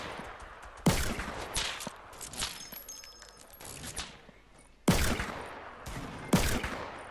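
Gunfire in Fortnite, including pump shotgun blasts, with a few sharp loud shots spaced seconds apart over busy crackling game noise.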